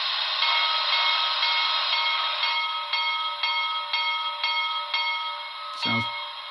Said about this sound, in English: Function 1 is bell.